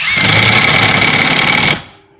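A Kimo 20V brushless impact driver drives a 1¼ inch screw, a loud, close, steady hammering buzz lasting under two seconds before cutting off sharply.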